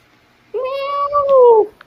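A single drawn-out meow, clear and close, rising then sliding down over about a second, with nothing else around it.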